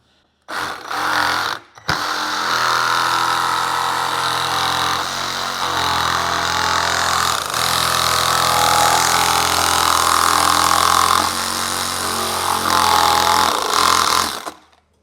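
A power drill fitted with a jigsaw-style blade cuts a speaker hole for a 6x9-inch speaker in a Harley Street Glide fairing, running as a loud, steady, close-up whine after a couple of short bursts, then stopping.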